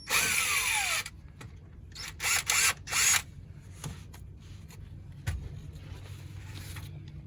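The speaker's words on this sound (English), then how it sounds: "we're going to use a left-handed drill bit" A power drill with a left-handed bit whines in short bursts, drilling out a bolt on a Kenworth truck, revving up and stopping several times, followed by quieter clicks and handling noises.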